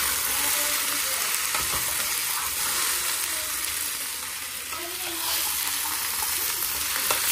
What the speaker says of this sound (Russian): Сейчас сначала картошечка поджарится у нас.